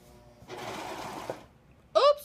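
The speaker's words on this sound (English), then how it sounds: "Oops, I stepped on the pedal for my serger." An overlock serger runs in a brief buzzing burst of under a second, followed by a short pause and then a person speaking.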